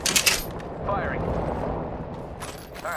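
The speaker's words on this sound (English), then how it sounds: "Shots fired, and they're hitting me" Rapid bursts of R99 submachine gun fire ring out in a battle royale match, sharp clattering volleys at the start and end with gameplay noise between, while a voice talks over part of it.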